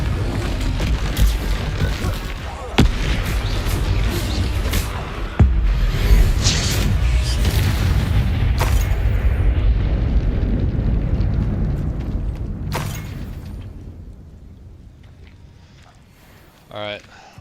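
Confringo blasting spells explode in Hogwarts Legacy. Several sharp booming blasts erupt over a sustained roar, which fades toward the end, ending in a brief rattling burst.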